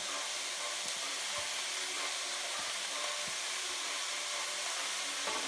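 Ground meat browns in a pan for Thai lettuce wraps, giving a steady close sizzle and hiss with a few small pops and crackles and no talking.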